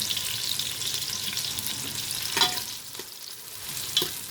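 Onions frying in a pan for dhaba-style dal, with a steady, fairly quiet sizzle and a few soft clicks of stirring.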